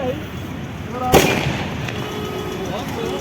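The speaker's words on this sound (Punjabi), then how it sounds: "ਲਓ ਜੀ ਆਤਿਸ਼ਬਾਜ਼ੀ ਵੀ ਸ਼ੁਰੂ ਹੋ ਗਈ ਹੈ" A firework bursts at Hola Mohalla in Anandpur Sahib: a single sharp bang followed by a fading crackle and rumble, with faint crowd voices around.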